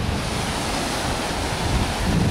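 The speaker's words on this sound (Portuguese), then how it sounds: "Vamos ouvir o barulhinho da água tradicional?" Steady rush of sea waves breaking on the shore at Ilha dos Carneiros, Pernambuco, Brazil, continuous and loud, with wind buffeting the microphone throughout.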